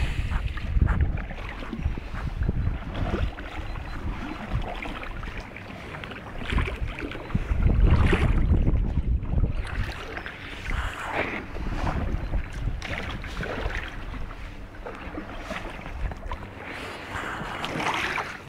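A rowing boat moves through floodwater, oars splashing and churning in an irregular rhythm under steady wind noise on the microphone, fairly loud and close.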